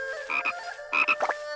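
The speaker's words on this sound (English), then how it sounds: "Frog, frog, frog, frog, frog, frog. Yay, frogs!" Croaking frogs in a frog race in the video game Shenmue 3, a couple of close, loud, throaty ribbits in quick succession over a steady tonal game backdrop.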